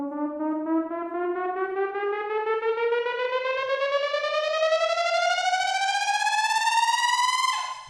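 A synthesized FX riser made in Logic Pro, with a bit crusher placed ahead of the reverb, sweeps steadily upward in pitch for about eight seconds with a bright, buzzy, harmonic-rich tone, loud and sustained before cutting off abruptly.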